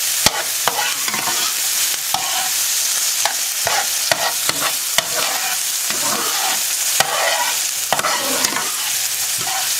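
Beefless beef and seasoning fry in a pan with a continuous loud sizzle, punctuated by frequent sharp scrapes and clacks of a utensil stirring against the pan.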